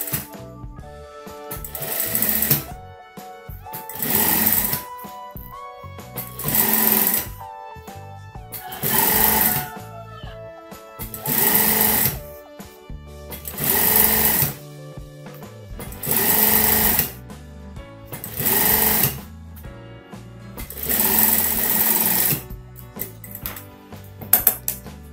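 A sewing machine stitches a folded shirt collar seam half a centimetre in, running in repeated short bursts of rapid mechanical clatter separated by brief pauses, close and loud with no talk.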